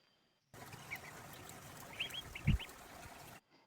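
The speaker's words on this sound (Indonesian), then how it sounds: "ini karena ini hanya suara ayam dan suara air." Chickens give a handful of short, sharp calls over a steady hiss of background noise, with one low thump near the end, all cutting off abruptly.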